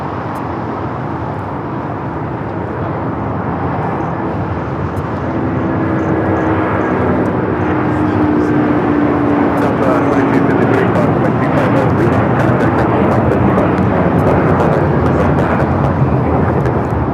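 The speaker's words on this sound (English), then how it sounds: "Airlines 803 taking off to Honolulu on the A330-200 Lilo and Stitch" An Airbus A330-200 in Lilo and Stitch livery takes off from LAX bound for Honolulu, its engine roar swelling and staying loud through the second half. Speech is audible over the engines.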